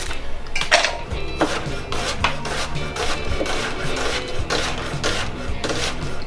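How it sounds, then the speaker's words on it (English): A knife slices through onion on a cutting board in a steady series of close, crisp chopping taps and board contacts, each followed by a faint rasp of blade through flesh. "Slicing up some onion."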